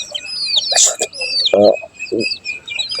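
Ducklings peep in a steady stream of high, thin calls, with a voice talking over them.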